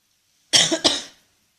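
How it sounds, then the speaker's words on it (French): A woman lets out a short cough of two quick bursts from a slightly sick throat, close and clear against silence. "juste une petite toux histoire de t'embêter un peu"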